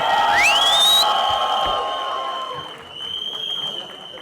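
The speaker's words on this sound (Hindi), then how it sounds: "Paresh Rawal sir के लिए दोबारा तालियां हो जाए" Stage audience applause and cheering for Paresh Rawal at a horror-comedy film event, a dense crowd clapping under a rising whistle-like tone that fades into sustained ringing, fairly loud and steady.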